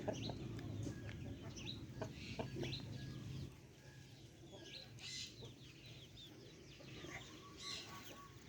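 Faint chicken clucking outdoors, with scattered soft bird calls over a quiet background.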